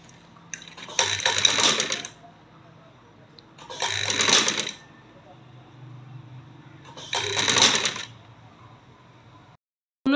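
A sewing machine stitches a 1-year-old baby girl's gharara in three separate bursts of rapid whirring and needle clatter, close and loud, with quiet pauses between and a voice speaking during the gaps.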